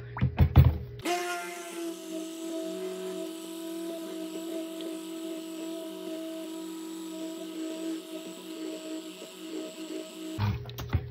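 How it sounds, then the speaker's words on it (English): Lye water solution being blended into oils with a stick blender for a batch of coffee soap with natural colorants, a steady close motor whir running nearly the whole time with brief knocks at start and end. "So I'm gonna blend this up."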